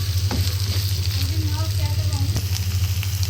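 Chicken chilli fries on a full high flame with a constant dense sizzle over a steady low hum. A voice briefly murmurs underneath.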